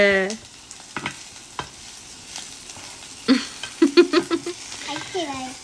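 Tomatoes are stirred while frying in a pan for a country chicken dish, with scattered scraping clicks and a quick run of spoon taps over a faint sizzle, as voices chat nearby.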